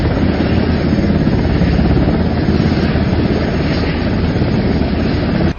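A military helicopter transporting wounded Israeli soldiers to a central hospital, its rotor and engine roar loud, steady and close, filling the whole stretch without a break.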